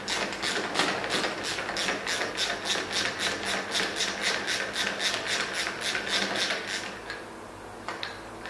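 A ratchet with a 24mm socket undoes the top cap on a RockShox Solo Air fork, a steady run of rapid, evenly spaced clicks close by for several seconds, then a pause and a few last clicks.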